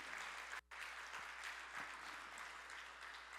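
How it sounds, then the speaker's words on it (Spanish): A church congregation applauds during a sermon, a faint, steady wash of many hands clapping with a brief gap near the start, heard from a distance with no talk over it. "Apláudase usted mismo."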